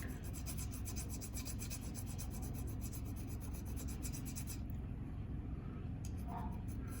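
Knife serrations are sharpened with a steady, rapid rasping scrape, a close, quiet, continuous rubbing that runs throughout without pauses.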